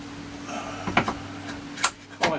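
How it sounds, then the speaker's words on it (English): Brass hammer tapping a collet and shank on a lathe, three or four sharp separate knocks over a low steady machine hum. "Tap with me brass hammer."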